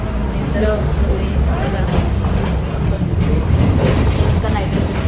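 A night train ride to Hoboken rumbles steadily from inside the car, with a dense, loud roar of wheels and motion. Voices can be heard talking over it.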